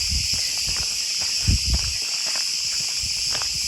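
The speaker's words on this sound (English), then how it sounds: "Listen to all the cicadas." A dense, steady high-pitched insect drone of cicadas on Crete fills the background, with soft footsteps and rustling closer by.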